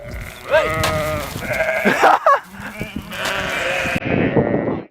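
Several loud, close bighorn sheep bleats in quick succession, wavering and nasal, with some scuffling noise in between.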